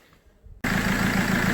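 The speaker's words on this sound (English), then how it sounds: "Now let's start the car to see if oil comes from the particle filter as well." A BMW E91 diesel engine cranks and catches after a brief quiet moment, then settles into a steady, loud idle that runs on close by with no talking.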